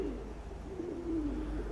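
Pigeons at a loft, a pairing hen with an old cock bird, cooing softly in a low, rolling murmur that continues throughout, faint and unaccompanied by voices.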